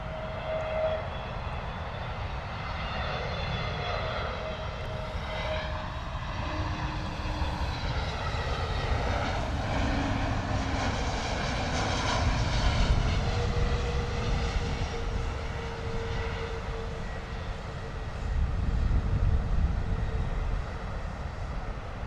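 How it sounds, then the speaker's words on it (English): An Iberia Airbus A320neo comes in to land at London Heathrow, its engine roar loud and sustained, with whining tones that shift in pitch as it passes and swells toward the end. "Iberia A320neo coming in."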